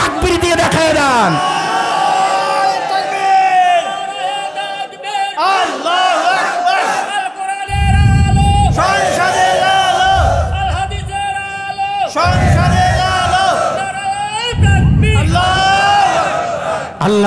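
A large crowd at an Islamic religious gathering in Bangladesh roars a takbir chant in repeated loud surges, several rising shouts in succession, filling the space with massed voices.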